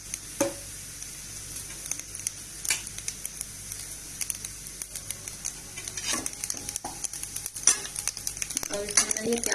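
Cumin seeds crackle and sizzle in hot oil alongside carom seeds while bhindi masala is cooked, a steady close frying hiss with scattered pops and stirring clatter throughout.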